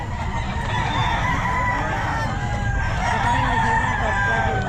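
A Macray stag rooster crows at the Bocaue pet market, long drawn-out calls sitting inside a loud, dense wash of market crowd noise and other fowl.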